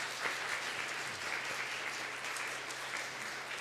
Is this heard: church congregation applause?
yes